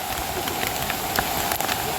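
A rain-fed waterfall at Mahimatgad fort in Ratnagiri, Konkan, makes a continuous broadband rush of falling water mixed with rain, steady and fairly loud, with no voices.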